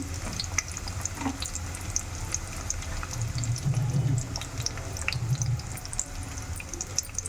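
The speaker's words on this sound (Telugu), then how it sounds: "ఆనియన్ బాగా ఫ్రై అవ్వాలి" Thinly sliced medium onion frying in a pan for chicken curry, a steady broadband sizzle with faint watery crackle throughout, fairly close and even in level, no voices.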